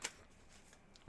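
Tarot cards being shuffled by hand, a brief, quiet riffle with a sharp burst at the start and a soft rustle after it.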